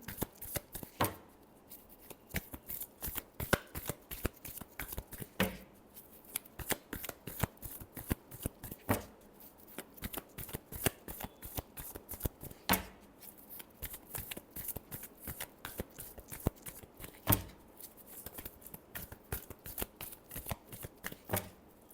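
Tarot cards are shuffled by hand in fast, crisp riffles and flicks close to the ear. Quick bursts of rapid card slaps repeat through the clip with short pauses between them, and nobody speaks.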